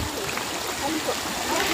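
Steady stream water trickling and splashing in a rural barangay spot where people draw water, a continuous close wash of flow with no talk over it.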